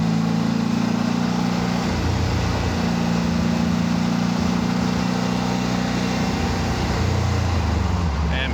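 Engine of a 1948 Porsche 356 Speedster replica, a steady low drone from inside the car that dips and changes pitch as it drops from fourth into third gear, with someone talking over it.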